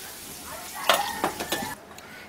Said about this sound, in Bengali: এই তেলের মধ্যে ঝিঙেগুলোকে হালকা করে একটু নেড়ে নিচ্ছি।